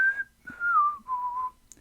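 A lone whistled melody from a song, three clear sustained notes gliding slightly downward with brief gaps, close and bright with nothing behind it.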